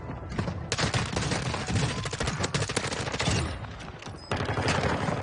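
Rapid automatic gunfire from the Warzone video game rattles close and loud in dense bursts with brief pauses, an M4 class among the weapons, with no clear talking over it.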